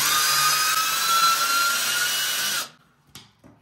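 A power drill whines steadily at a high pitch for a couple of seconds, then stops, followed by a few faint knocks.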